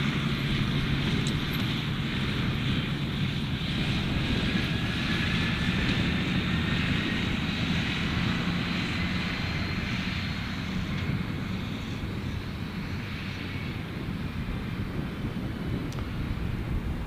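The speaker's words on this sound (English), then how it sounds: "We've got our Qantas 737 now" A Qantas Boeing 737 airliner at Gold Coast Airport gives a steady, distant jet-engine roar with some wind noise, fading slightly toward the end, with no talking.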